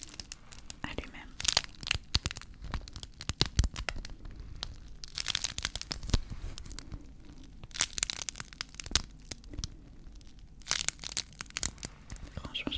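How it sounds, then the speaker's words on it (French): Plastic suction cups peel apart in close ASMR-style crackles and sticky tearing pops, dense and continuous with quick bursts, right near the microphone. "Je sais pas si c'est les ventouses ou tout simplement le plastique qui se colle"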